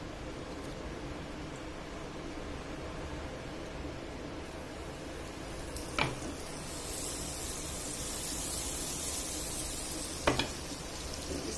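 Butter sizzling on a hot non-stick tawa over a gas flame, a steady, close frying hiss throughout with two brief sharper pops.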